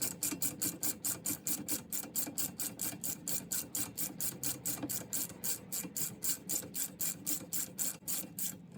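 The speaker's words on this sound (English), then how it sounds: "Now we'll switch over to the big ratchet and tighten up our caliper." A big ratchet snugs the caliper bolts on a Porsche Boxster S or 996 911 front brake. It gives a fast, even run of close, crisp clicks that repeats without a break.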